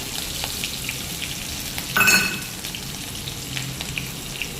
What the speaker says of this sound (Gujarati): લીમડો એડ કરી દીધો અને લીલા મરચાં.